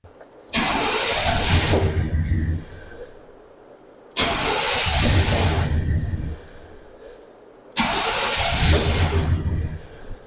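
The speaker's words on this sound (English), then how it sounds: "Well, it's firing, but it's dying right away." A turbocharged Chevy OBS truck engine with a tune or timing fault cranks and catches three times, each start a loud roar of about two seconds that quickly dies away, with short quiet gaps between attempts.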